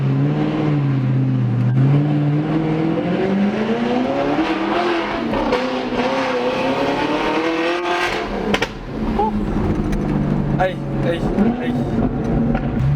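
A car engine revs with rising and falling pitch and a sharp throttle blip near the end, heard close with a voice speaking briefly over the engine.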